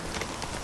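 Hooves of Geralt's horse Roach in Witcher 3: Wild Hunt clip-clop briefly in a quick, steady galloping rhythm, close and moderately loud, with no voices.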